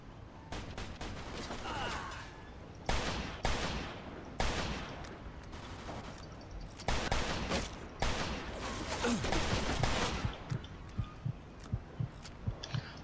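Gunfire rings out in the Mafia II video game: repeated loud bursts of shots and rapid volleys crack throughout, with brief pauses between exchanges.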